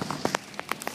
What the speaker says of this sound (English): Look at the rain we're getting up front.